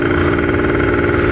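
Steady, loud mid-pitched engine drone from a motorcycle on a road at night, close by and continuous with a throbbing pulse, no talk.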